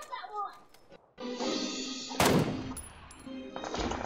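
Video game gunfire bursts out in loud, sustained volleys with a sharp blast midway, while excited voices talk over the shooting.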